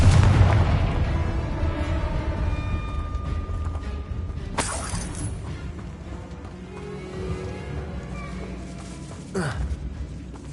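A Confringo blasting spell erupts in the Hogwarts Legacy video game, a loud close boom that rumbles and fades, followed by a couple of sharp crackling bursts over a busy game soundscape.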